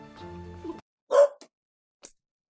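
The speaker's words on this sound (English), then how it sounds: "my dog in the background" A dog barks once in the background after a voice stops, followed by a couple of faint short yips, distant and fairly quiet.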